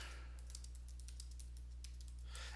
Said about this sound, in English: simply typing your website in here